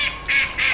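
Ducks near a muddy chicken coop give three bursts of quacking, bright and nasal, separated by short quiet gaps.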